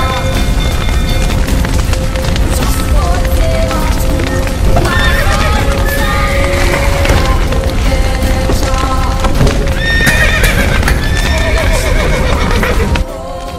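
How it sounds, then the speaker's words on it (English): Horses gallop and neigh in a burning-stable scene from The Witcher III: Wild Hunt, with loud continuous hoofbeats and several shrill whinnies over a dense, crackling backdrop. "The horses!"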